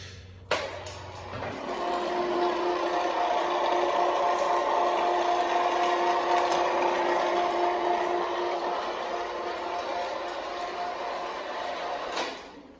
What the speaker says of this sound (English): Here we have a CM 2-ton electric hoist.